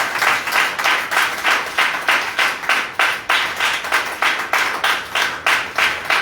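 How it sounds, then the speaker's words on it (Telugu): A church congregation claps loudly in a steady, even rhythm, roughly two claps per second, continuing without a break. "నమ్మిన అందరూ కూడా చప్పట్లు కొట్టండి గట్టిగా."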